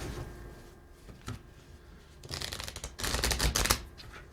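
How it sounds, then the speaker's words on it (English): Quick bursts of riffling card flutter, a short soft patter early on and then a louder, denser cascade of rapid flicks near the end. "this time I will shuffle just once"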